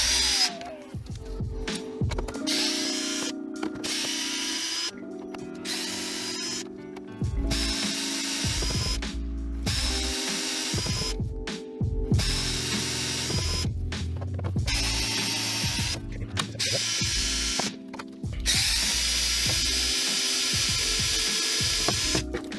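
Power drill driving a screw into an electric unicycle, in repeated whirring bursts of varying length broken by short pauses, close and fairly loud, with ratcheting clicks between runs.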